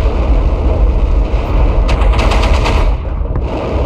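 Gunfire from a multiplayer video game, a dense run of rapid shots and bursts layered over constant loud game noise, fairly close and continuous throughout.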